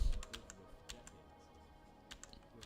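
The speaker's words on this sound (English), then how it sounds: "Only my keyboard clacking can comfort me now." A computer keyboard clacks under steady typing, with a cluster of sharp key strikes at the start, a quieter stretch and a few more taps near the end, close and without talk.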